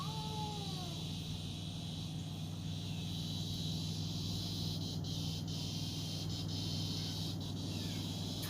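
A steady, continuous drone of cicadas buzzing in the distance, unchanging and moderately loud, with a faint meow early on.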